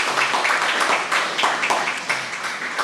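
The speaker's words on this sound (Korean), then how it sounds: "최은실 성도님 오셨는데 잠깐만 일어나시면은 박수로 환영하겠습니다." A church congregation claps together in sustained welcoming applause, a dense rhythmic patter of many hands filling the room.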